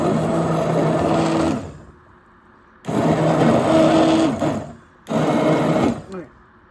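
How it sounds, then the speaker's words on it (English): An immersion blender whirs loudly in three bursts through boiling tomatoes, stopping and restarting with short pauses between runs, close up. "I'm going to be very, very careful with this immersion blender"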